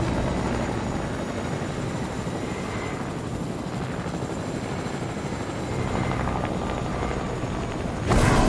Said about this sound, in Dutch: ik ben de beste helikopterpiloot van Fortnite